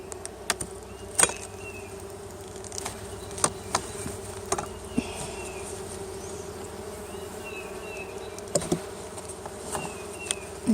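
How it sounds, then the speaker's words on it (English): Honey bees hum steadily inside a hive, a dense and continuous low drone heard from close by, with occasional faint clicks and taps over it. "And you can hear them all buzzing in there."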